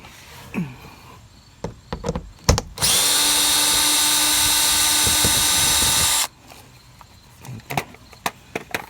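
Power tool spinning out bumper bolts on an Infiniti Q50: one loud, steady whir of about three seconds, close up, framed by scattered clicks and knocks of handling.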